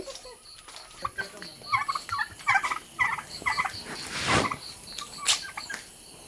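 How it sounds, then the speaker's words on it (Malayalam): Several repeated gobbling fowl calls from chickens on a six-acre farm, fairly close, in bursts against an outdoor background with a louder rustling sweep midway. "കോഴികൾ"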